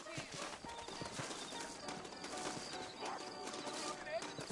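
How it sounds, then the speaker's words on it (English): Rhythmic clip-clop of horse hooves in the video game Red Dead Redemption, under continuous talking and background music, moderately loud. "I got the horses saddled up and ready out front."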